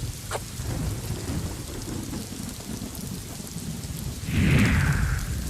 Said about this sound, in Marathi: विजांच्या कडकडाटासह झालेल्या पावसामुळे नागरिकांची मात्र तारांब उडाली आहे